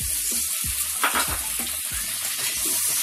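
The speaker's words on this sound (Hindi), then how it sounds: "इसमें प्याज डाल देंगे। और साथ ही साथ ये टमाटर भी हम इसमें ऐड कर देंगे।" Onion and tomato hiss and crackle in hot oil, a continuous close-up sizzle broken by a few soft stirring scrapes and clunks of a utensil against the pan.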